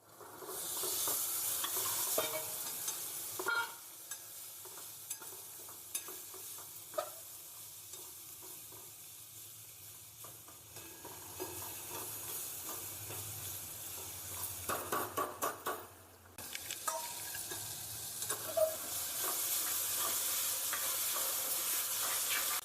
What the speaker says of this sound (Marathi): मिक्स करून दोन मिनटं परतून द्यायची